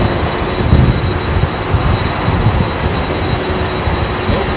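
Airliner engines start up at London Heathrow with a rough, low rumble and a steady high whine, continuous and fairly close, with no voices.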